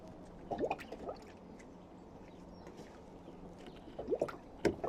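Motor oil glugs and splashes as it overflows while being poured into a VW Polo 1.2 TSI engine, with intermittent liquid gurgles and squishy pops, fairly close, without any talk.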